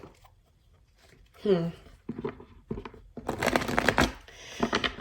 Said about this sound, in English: Before I could even shuffle this deck